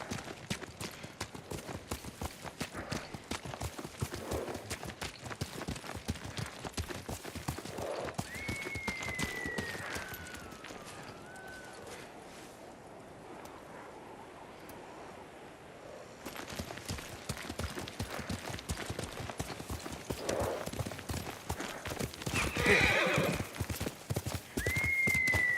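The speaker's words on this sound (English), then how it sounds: "Good horse, Kage." A horse in the video game Ghost of Tsushima gallops with rapid, steady hoofbeats, slowing briefly midway, while whinnies ring out now and then over the running.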